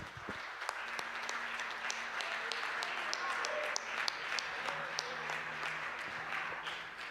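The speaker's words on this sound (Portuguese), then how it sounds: "Aplauda essa palavra." Applause from a church audience patters steadily at moderate volume, many hands clapping at once, while a voice speaks over it.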